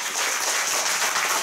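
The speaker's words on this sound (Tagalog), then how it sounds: "Bago ho tayo umupo, pwede po bang pumalakpak tayo ng malakas?" A church congregation claps loudly and continuously at the close of a worship prayer, a dense, even wash of applause throughout the short moment.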